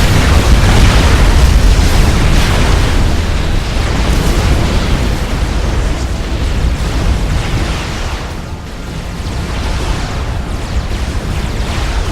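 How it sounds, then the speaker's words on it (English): Continuous heavy rumbling booms of artillery explosions in the Supreme Commander Forged Alliance strategy game, a loud, dense, roaring wash without clear breaks, fading slightly midway before swelling again. "That was artillery. They've got a couple artillery up there."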